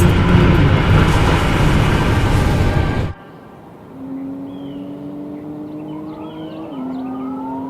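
A Rimac electric car accelerates hard, first a loud broadband roar that cuts off abruptly, then a rising electric whine with higher tones sweeping upward, steady and close.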